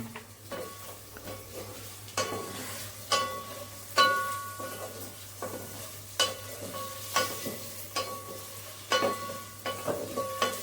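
Chillies, onions and tomatoes frying in a pan for paneer biryani: a steady sizzle runs throughout, broken by regular stirring scrapes and light clinks of a spoon against the pan, close and moderately loud.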